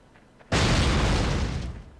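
A loud game explosion bursts in Fallout: Brotherhood of Steel on PS2. It starts with a sharp onset after quiet, then a dense roaring rumble that slowly fades.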